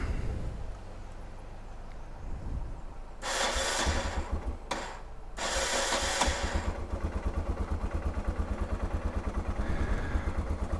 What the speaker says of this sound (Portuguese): Dá partida na tenera.